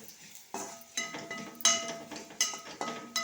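Spice-coated fried snack being stirred in a pan over low heat for soodana kaara pori, with regular scraping and clinking strokes about every half second over a faint sizzle, close and alone.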